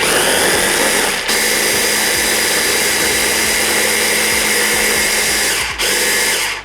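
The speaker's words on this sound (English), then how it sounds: "We can get in there now with some of our garlic and shallot, and we'll give it another little blitzing up." A blender blitzes asparagus with garlic and shallot, a loud, steady high-pitched motor whir running continuously with two brief dips as the blades catch, no talking over it.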